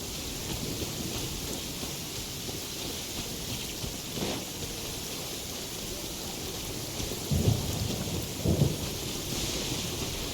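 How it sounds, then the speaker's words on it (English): Steady rainfall and rolling thunder in the video game Genshin Impact, a constant hiss of rain with a few deep, moderately loud thunder rumbles near the end. "Don't stay out in the rain for too long."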